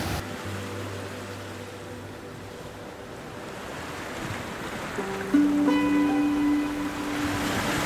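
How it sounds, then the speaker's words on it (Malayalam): Rushing water right beside Thavakkal waterfall, a steady broadband roar that swells slightly near the end, with a brief tonal hum over it. "വെള്ളച്ചാട്ടത്തിന് തൊട്ടടുത്തായിട്ടാണ് ഞാൻ നിൽക്കുന്നത്."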